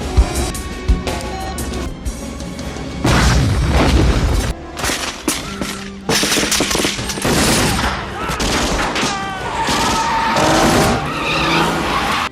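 Explosion and vehicles in a film action scene ambushing an escort convoy on a street, with loud booms, tire skids and gunfire-like bursts over a dense, continuous cinematic mix.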